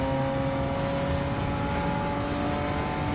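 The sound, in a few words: turbo sports car engine racing in Gran Turismo 7 video game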